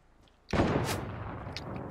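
A single sharp gunshot in the video game Fortnite bursts in after near silence and fades into a loud, rumbling echo, with a faint crack following.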